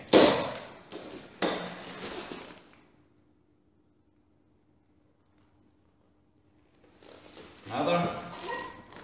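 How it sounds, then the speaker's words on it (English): A manual corker presses a natural cork into a bottle, giving two close, sharp clunking bursts with a rasping tail, then a quiet pause before another scraping, thudding stroke near the end. "The first movement to compress the cork,"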